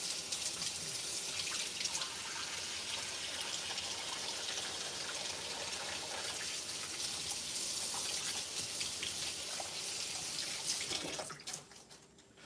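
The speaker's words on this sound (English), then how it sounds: "wash my hands first" A kitchen tap runs steadily while hands are washed underneath, a continuous close splashing rush that goes on for several seconds before the water is shut off near the end.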